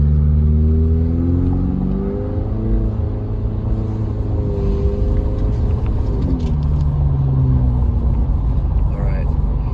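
A car climbs uphill on Summit Boulevard toward the Big Bear ski resort in snowy California mountains, its engine rumbling steadily close by and revving as it accelerates, with someone talking over it throughout.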